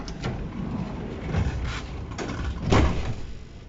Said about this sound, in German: Ja, knallt zwar zu. Der quietscht nicht.